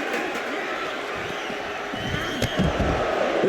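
A steady roar from an arena crowd in a WWE 2K wrestling video game, a dense wash of noise with a few sharper thuds near the end.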